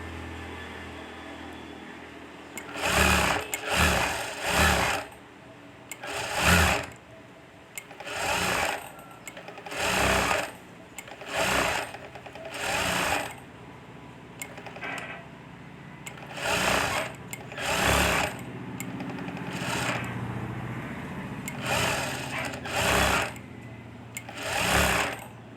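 A sewing machine stitching thread piping onto a blouse piece runs in repeated short bursts of whirring motor and needle clatter, separated by brief pauses, close and fairly loud with no talking.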